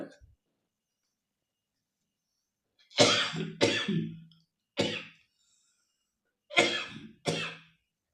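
Several harsh coughs in short bursts, a pair, then a single, then another pair, close and loud against an otherwise quiet background.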